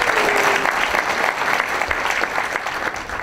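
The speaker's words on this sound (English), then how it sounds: "Let's give Vernon a round of applause." Audience applause at an art reception, steady dense clapping from a crowd that fills the whole moment, loud and continuous.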